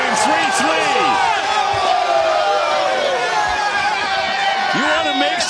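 A large baseball crowd at Fenway Park roars and cheers loudly and steadily during a Red Sox home game, with a broadcaster's voice heard over the noise.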